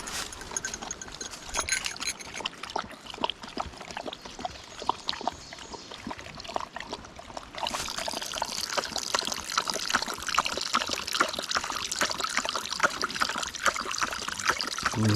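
Water trickling and pouring for a working search dog during wilderness training, a continuous splashing stream that grows brighter and stronger partway through, close up with no talk.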